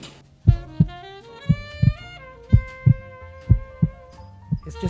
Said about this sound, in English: You can actually hear your heart beat.